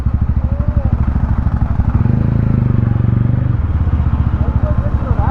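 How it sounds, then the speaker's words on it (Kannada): A motorcycle rides toward JC Road in Bangalore, its engine running loud and close with a steady pulsing throb throughout and a brief rise in pitch midway. "ಬೈಕ್ ಹೊರಟು JC ರೋಡ್"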